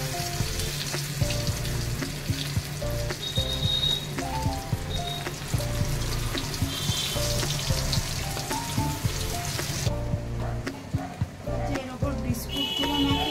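Food shaped like cutlets frying in hot oil, a dense, continuous crackling sizzle with popping spatters that holds steady close by throughout and thins a little near the end.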